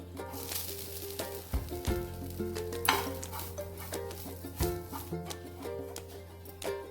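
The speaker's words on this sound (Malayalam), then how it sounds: "അരക്കപ്പ് തേങ്ങ എടുത്തത് നമുക്കൊന്ന് വറുത്തെടുക്കാം" Half a cup of grated coconut roasts in a pan for Kerala kovakka theeyal, a soft crackling sizzle with repeated scraping strokes of a spoon against the pan, close and alone.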